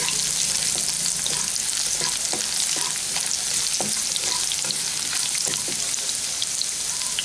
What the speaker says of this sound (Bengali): রসুনটাকে 1 মিনিট মতো নেড়ে নিচ্ছি